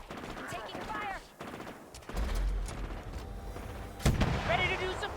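Video game gunfire crackles in bursts under a voice, with a heavier boom near the end.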